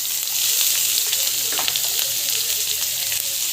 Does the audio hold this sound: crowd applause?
no